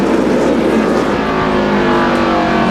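NASCAR stock cars race in a pack at Martinsville Speedway in the 2004 Subway 500, a loud, steady roar of engines that stays dense and close throughout.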